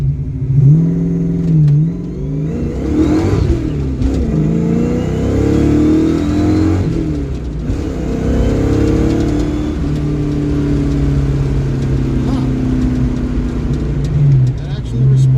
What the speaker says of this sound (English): now we're going to try a full throttle pull here in just a second